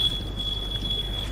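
A smoke or fire alarm going off, a steady high-pitched electronic tone that pulses slightly, moderately loud over a low background rumble with no talking.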